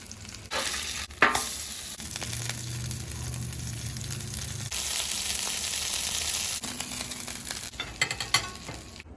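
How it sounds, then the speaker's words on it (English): Beer-battered fish frying on an oiled Blackstone griddle, a loud steady sizzle broken by scraping and metal clinks of a spatula, close by, with no voices. "Fry the fish."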